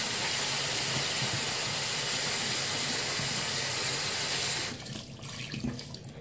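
Tap water runs steadily into a sink to wet a Beauty Blender makeup sponge, a continuous close hiss that drops off abruptly near the end as the flow is shut.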